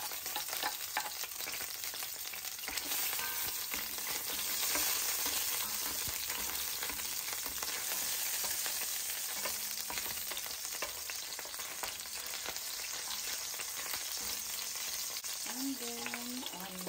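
Garlic fries in a pan on the stove, giving a continuous crackling sizzle with a faint hiss throughout and occasional stirring scrapes.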